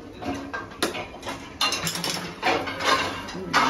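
Steel dishes and cutlery being stacked and put away in a home kitchen, with loud, close clatters and metallic clinks coming in irregular bursts and no talking.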